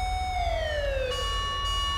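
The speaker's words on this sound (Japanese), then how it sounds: "おお、消防車来たよ" A fire engine siren in the GTA 5 video game wails loudly and close by, its tone sliding downward, then switching to a steady high pitch over a low engine rumble.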